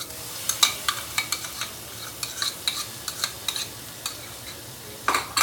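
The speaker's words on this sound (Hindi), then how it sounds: "गार्लिक को सौते करेंगे कच्ची स्मेल हटने तक।" Garlic paste sautés in a pan with softened onions for matar paneer: a soft, continuous sizzle under repeated sharp spatula scrapes and clicks against the pan, close and alone.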